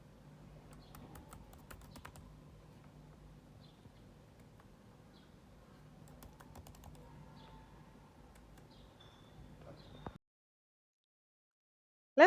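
Computer keyboard keys clatter in an irregular stream of light, close taps for about ten seconds, followed by silence and then a short sharp burst at the very end.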